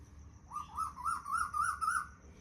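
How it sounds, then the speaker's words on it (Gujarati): An Asian koel, a cuckoo, calls at dawn in a village courtyard: a clear, rising whistled phrase repeated about five times in quick succession, close and fairly loud over a quiet rural background. "કોયલ બોલે ક્યાંથી"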